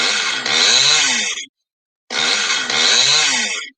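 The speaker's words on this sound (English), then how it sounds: "so this is my brand new chainsaw, and I finally cut a piece of that log" A brand new chainsaw cutting into a log, two loud close bursts of revving, whining engine noise, each about a second and a half long, separated by a short silence.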